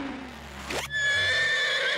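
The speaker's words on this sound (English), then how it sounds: "The big furry alien is called a horse." Cartoon horse lets out a single bright whinny, a rising then sharply falling squeal followed by a sustained, wavering neigh, loud and close with no talk over it.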